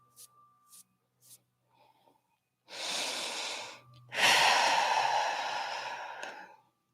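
Deep full-capacity breaths during an exercise session: a long slow inhale, a brief pause, then a longer forceful exhale, close and clear, with a few soft sniffs and small sounds before.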